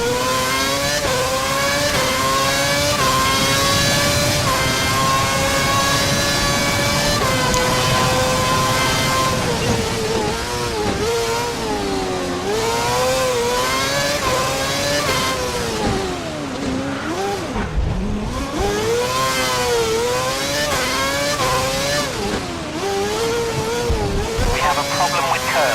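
A Ferrari Formula 1 car in the F1 2011 game at Singapore in heavy rain, its high-pitched engine screaming and rising and falling in pitch through gear changes and corners, with a voice talking over it.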